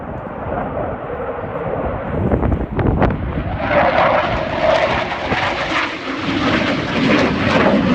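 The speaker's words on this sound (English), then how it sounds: "Completing a high G minimum radius turn, both pilots will pass over center point at the same time." Blue Angels jet passing overhead at the NAS Pensacola air show, a loud roaring rush that builds and shifts in pitch as it flies by, with an announcer talking over it.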